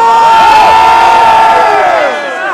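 A crowd at a Brazilian freestyle rap battle cheers and shouts loudly, with high whoops and screams rising over the roar before it fades slightly at the end.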